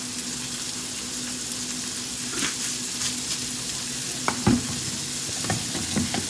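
Garlic and adobo seasoning sizzle steadily in a hot pan, a continuous close frying hiss with occasional stirring clinks and scrapes, no talking.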